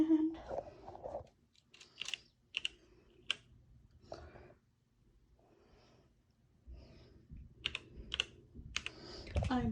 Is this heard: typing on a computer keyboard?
yes